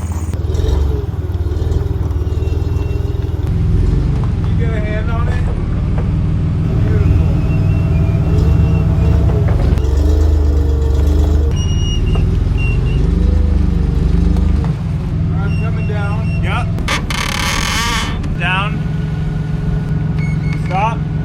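A forklift engine rumbles and shifts pitch as it helps fit a new stern stem to a wooden boat, with clattering and scraping of heavy parts and people talking nearby.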